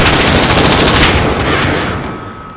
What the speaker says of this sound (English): Shooting my Wilson.